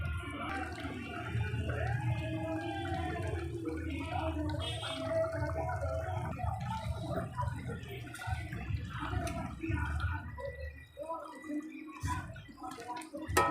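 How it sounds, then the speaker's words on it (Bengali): Parshe fish curry with mustard and poppy seed paste simmering in a pot, giving a steady, close bubbling with wet pops and gurgles throughout. "মাছ দিয়ে আবারও কিছুক্ষণ একটু ফুটিয়ে নেব।"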